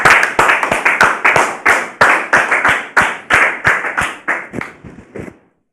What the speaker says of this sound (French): Merci de recevoir Monsieur Aliko sous vos applaudissements.